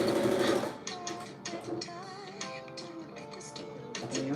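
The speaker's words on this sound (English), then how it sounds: "I'm sewing around the pocket again. Giving it my secure contoured stitch, as I call it." A sewing machine runs steadily while stitching around the pocket of a pair of handmade sweatpants, with a continuous mechanical whir and ticking at moderate level over faint background tones.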